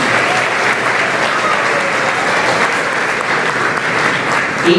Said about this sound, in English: So let's give Mr. Rigsby a big round of applause for that slideshow